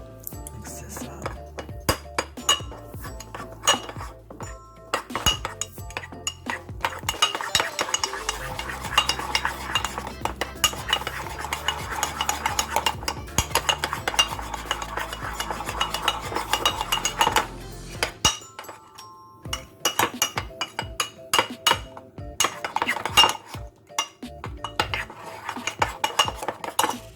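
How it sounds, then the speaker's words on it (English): Spoon stirring almond flour, baking powder and egg in a bowl for keto microwave bread, brisk clinking and scraping against the dish for most of the stretch, then scattered taps, close and clear with no talk. "I have mixed the almond flour, the baking powder, and the egg"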